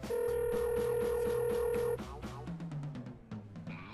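Telephone keypad tones ring out in a steady rapid sequence of loud, even beeps as a number is dialed to call Santa Claus. A softer ringing or connection tone follows.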